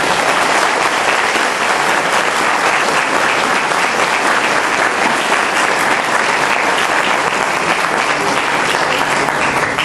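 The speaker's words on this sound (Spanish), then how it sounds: "Vamos a darle un fuerte aplauso" Steady, loud applause from a conference audience fills the whole stretch without a break, a dense wash of many hands clapping at once before a physics lecture in Mexico.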